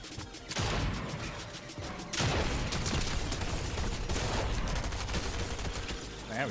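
Shotgun blasts and chaotic combat noise from Fortnite arena play, loud and close, heavy booms landing in quick succession amid a constant clatter of game effects, with some speech mixed in.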